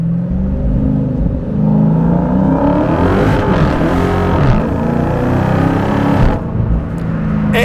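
Dodge Hellcat pulling away under light acceleration in first gear, a deep engine rumble heard from inside the car that swells and rises gently in pitch, loud and continuous with no voices.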